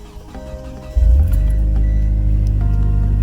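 A 2G DSM car's engine cranks and catches about a second in, then settles into a loud, steady idle close by, with small clinks at the start.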